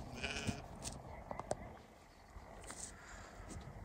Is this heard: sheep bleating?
yes